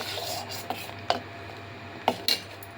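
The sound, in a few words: spoon stirring and scraping milk mixture in a pot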